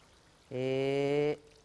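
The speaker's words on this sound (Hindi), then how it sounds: "इसमें बस पानी डाल देंगे शोरबे के लिए" Water poured into a pot of turnip and meat curry to make broth, a single steady stream lasting under a second, clear and close, with quiet room noise before and after.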